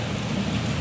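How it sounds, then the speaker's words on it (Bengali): Heavy rain pours down in a continuous dense wash of noise, steady and close for the whole short moment, with no voices. "এত বৃষ্টি"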